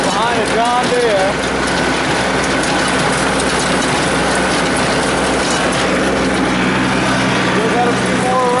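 A New Holland hay baler works behind a John Deere tractor in a field, its steady mechanical clatter and ratcheting gear rhythm running continuously over a low engine drone.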